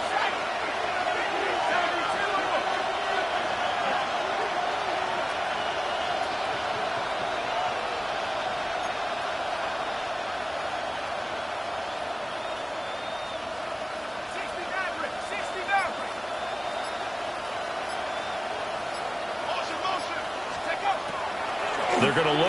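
A stadium crowd roars steadily at a football game, a broad sustained wash of cheering heard from a distance under continuous announcer commentary, with a few louder swells near the end.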